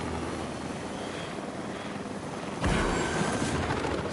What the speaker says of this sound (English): There was a helicopter there.